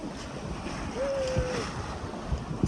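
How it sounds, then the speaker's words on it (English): A Contessa 26 sailboat moves through the waves at sea, with steady wind buffeting and water rushing along the hull, plus a few louder splashes near the end and a brief tonal whine in the middle. "It's just nice, easy sailing."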